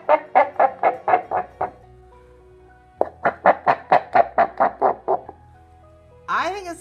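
A paper screaming cup with a string pulled through it gives two bursts of rapid, rhythmic squawks, about seven then ten pulses, sounding like a clucking chicken, followed by a brief squeal at the end.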